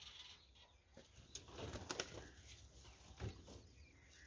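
A pigeon, a white one, is grabbed by hand in a village yard, its wings flapping in a few quick bursts, loudest around the middle, over faint outdoor background noise.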